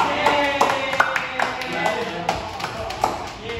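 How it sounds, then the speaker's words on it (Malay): Pupils in a classroom give a round of handclaps for a classmate: a loose burst of sharp, fairly close claps running steadily throughout, with faint voices underneath. "Ada tepuk tangan untuk Alif"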